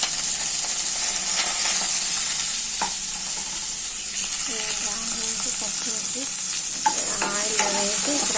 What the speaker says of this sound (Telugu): ఆయిల్ వేసి ఫ్రై చేసుకోవాలి.